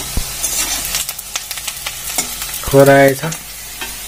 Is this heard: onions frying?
yes